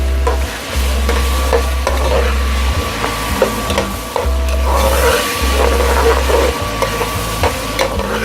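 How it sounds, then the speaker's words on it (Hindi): Chicken frying in hot oil with ginger garlic paste, stirred steadily in the pan, a close sizzle broken by rhythmic scraping strokes, with no talk. "और अदरक लहसुन का पेस्ट डालेंगे।"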